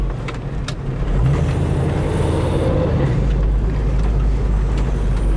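A 1969 Ford Mustang Mach 1 with a four-speed cruises along, its engine a loud, steady low rumble heard from inside the car, mixed with road and wind noise after it settles into speed.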